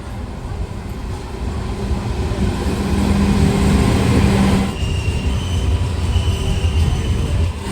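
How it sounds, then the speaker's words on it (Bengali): A train bound for Kolkata pulls into a station, a loud rumbling roar of wheels and cars with a steady tonal hum that swells then eases, close by and continuous. "কলকাতা যাওয়ার একটা ট্রেন চলে আসছে বন্ধুরা"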